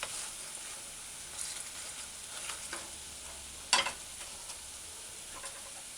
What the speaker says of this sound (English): where it's sauteing right over the heat